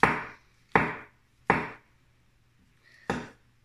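Firm mushrooms sliced with a knife for a Thai curry, four distinct close chops on a board with short pauses between, the last one after a longer gap, no voices.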